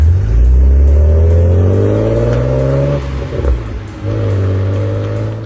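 A loud, close naturally aspirated BMW inline-six engine revs steadily with rising pitch, dips briefly around the gear change, then climbs again in a smooth, strong howl.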